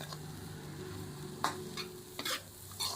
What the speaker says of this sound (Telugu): మనం అల్లం వెల్లుల్లిపాయ పేస్ట్ కూడా వేపేసుకున్నామండి.